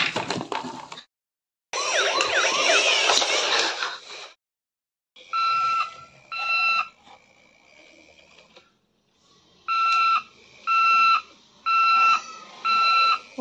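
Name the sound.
toy ambulance siren sound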